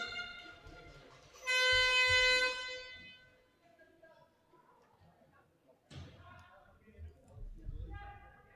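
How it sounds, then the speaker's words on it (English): An air horn blasts loudly for a little over a second in an indoor wheelchair rugby match, with thuds from the court and crowd noise, and a commentator talking over it. "Play almost stopped there as that air horn sounded"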